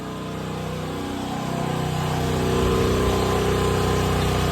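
A portable generator runs steadily with a constant engine drone and hum, holding a fairly loud, even level throughout with no voices.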